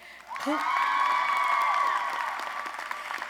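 Audience at a spring 2023 College of Social Work commencement ceremony applauding students, a sustained wash of clapping with a rising whoop or cheer over it, moderately quiet and heard from a distance.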